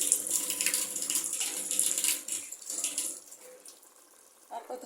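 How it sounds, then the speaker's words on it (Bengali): Water pours into a pot of cooking beef for biryani, a splashing gush that runs for a couple of seconds then thins out and fades, with a voice briefly heard near the end. "একটু পানি দিই"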